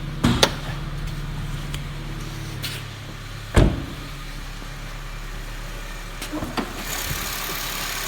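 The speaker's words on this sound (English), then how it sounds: "So my phone picks up small engine noise, so you get like valve train, fuel injector noise" 2008 Honda Civic Si coupe with a 2.0 VTEC engine and six-speed manual idling steadily under the open hood, a low even hum with light valve train ticking and a couple of sharp knocks, heard close with no talking.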